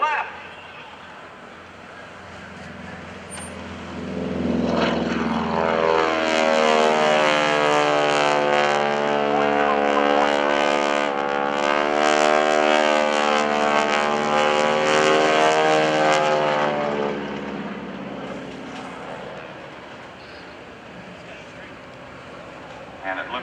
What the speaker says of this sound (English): the sound of the 600 horsepower Pratt & Whitney radial engine